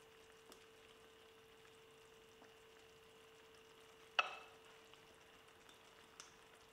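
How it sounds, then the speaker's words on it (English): Tomatoes simmering in a pan for Turkish menemen, a faint, low bubbling with scattered soft pops and one sharper crackle, steady and quiet with no talk. "I will simmer tomatoes until it's change color and liquid evaporates."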